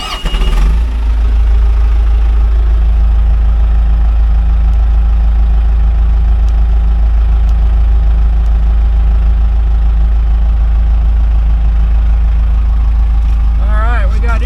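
A bulldozer's diesel engine starts up and settles into a steady, loud low idle that runs throughout, with a faint voice briefly audible near the end.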